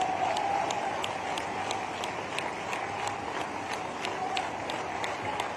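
A political rally crowd applauds in a steady, dense wash of many hands clapping, heard at a distance and sustained evenly throughout with no break.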